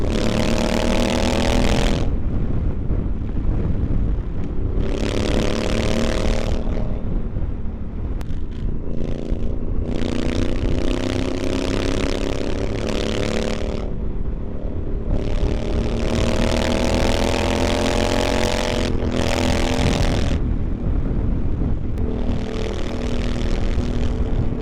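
A Honda Africa Twin motorcycle with an Akrapovic racing exhaust being ridden, its loud engine rising and falling through repeated revving accelerations and gear changes, with steady wind rush throughout.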